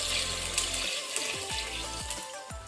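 Water is poured from a glass into a pressure cooker holding rice for a simple chakkari biryani, a close, continuous pouring splash with a few short gurgling sweeps as the water level rises.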